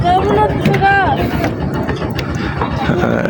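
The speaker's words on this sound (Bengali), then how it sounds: "এটি রাঙামাটি পর্যটনের বোট, এটা যাবে সুবলং।" A Rangamati tourist boat motors across the water, a loud steady engine drone mixed with rushing wind and water noise, while people talk over it.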